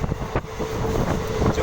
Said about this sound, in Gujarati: જઈ રહી છે ટ્રેન.